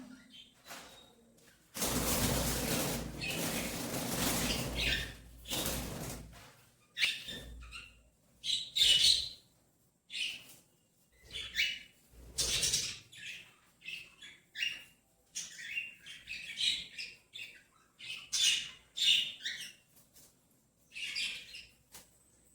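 Pet birds in a home cage chirp and squawk in short, scattered bursts, some loud and close, after an opening stretch of rustling noise.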